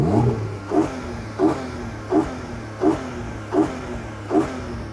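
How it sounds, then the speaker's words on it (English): A Porsche Cayman's naturally aspirated 4-litre flat-six gives seven sharp, evenly spaced throttle blips, each a quick rising bark that falls away, loud and near. "The naturally aspirated 400 horsepower 4-litre in a Cayman sounds a whole lot better."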